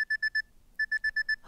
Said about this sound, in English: Why is my alarm going off?